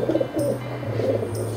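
A medium-sized blue cock pigeon coos close by, a brief run of low, throaty rolling coos with no voices over it.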